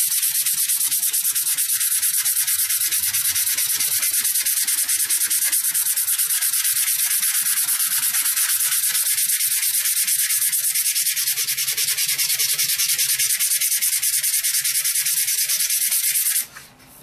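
Sanding a G10 knife handle with 120 grit abrasive, a steady close hissing rasp that runs without a break for about sixteen seconds before stopping abruptly.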